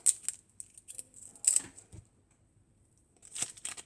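A small eraser is unwrapped from its packaging by hand, with a few close, short bursts of crinkling and tearing plastic separated by brief pauses.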